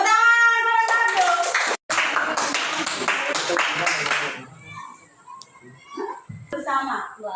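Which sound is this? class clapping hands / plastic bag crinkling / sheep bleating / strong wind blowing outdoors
class clapping hands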